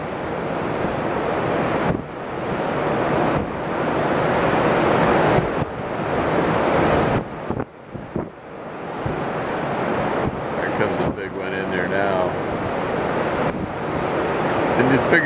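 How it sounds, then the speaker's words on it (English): Large waves crash and surge on Lake Erie during a winter storm, a loud, continuous roar of surf with repeated heavy breaks, mixed with strong wind buffeting the microphone. "Those waves are 10 and 12 feet,"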